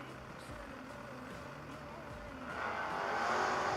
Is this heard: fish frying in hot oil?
no